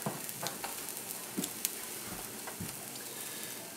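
Tuna steak sears in a hot pan with a steady, close sizzle and crackle, dotted with occasional sharp pops and spits.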